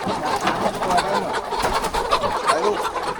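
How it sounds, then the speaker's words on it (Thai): Laying hens cluck close by in a steady chatter of short, overlapping calls. "น้องไก่ตัวแรกของเรานะครับ อุ้มแล้วเขาไม่ไปไหนอะ"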